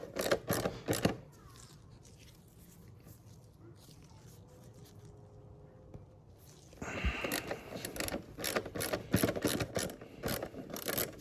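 A ratchet working on 10 mm bolts of a 2007 Toyota Sienna airbox, heard as bursts of quick mechanical clicking at the start and again later, with a quieter gap between them.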